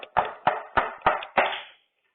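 Five snare drum strokes alternate between both hands in quick succession as a quiet-to-loud crescendo, the last hit ringing out before silence.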